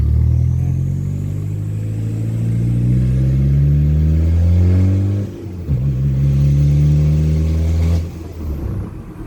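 A turbocharged 4x4 pickup pulls away from a standstill, its engine note climbing steadily in loud, close revs, with brief dips at each gear change before it winds up again.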